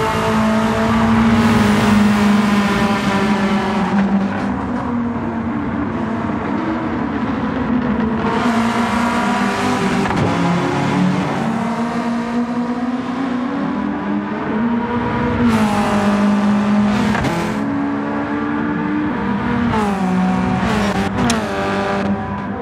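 Touring cars racing at St Croix in Gran Turismo 7, including a Mitsubishi and a Toyota, engines droning and revving continuously at high pitch with gear changes, loud and sustained.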